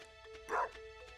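A dog in the Stardew Valley video game gives a single short bark, loud and close, over quiet steady in-game background music.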